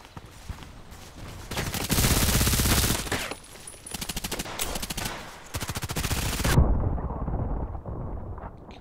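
Rapid bursts of Scorpion EVO SMG fire ring out in the shooter game Contract Wars, loud and close, with dense automatic volleys broken by short pauses before the shooting cuts off abruptly.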